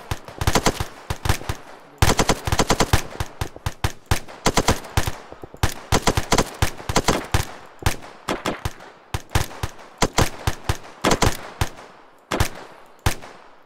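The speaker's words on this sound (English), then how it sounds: "We're being shot at" Gunfire in the ArmA military video game, with repeated bursts of sharp shots cracking in irregular volleys for the whole stretch, loud and close with brief pauses between bursts.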